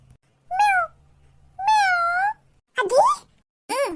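A person imitates a cat, giving a few drawn-out meows with pauses between them, the last ones higher and more squeaky.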